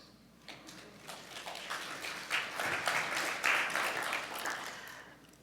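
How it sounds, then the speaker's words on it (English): Conference attendees clap for themselves, applause building from faint scattered claps into fuller, steady crowd clapping heard at a distance. "Clap for yourselves."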